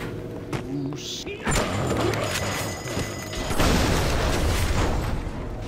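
Gunshots fired at an enemy in the video game Bioshock: heavy booming blasts that start around a second and a half in, then a louder burst later, over dense game noise that continues throughout.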